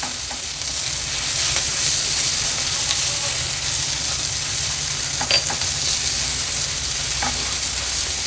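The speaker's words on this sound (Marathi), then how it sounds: "ठेचा देखील कांद्यासोबतच व्यवस्थित परतून घ्यायचा आहे" Thecha, a crushed chili paste, sautéing with onions in a pan over a lowered gas flame, giving a steady dense sizzle with occasional crackles and spatters throughout, no voices.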